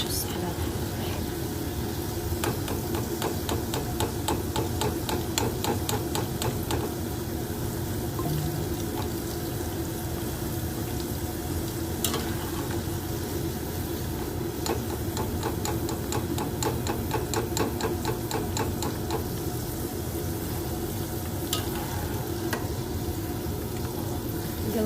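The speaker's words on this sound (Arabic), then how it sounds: "بشيله وبقلي الدياية" Chicken frying in hot oil for Kuwaiti machboos gives a steady sizzle with crackling pops throughout, with occasional stirring or clinking and some background noise.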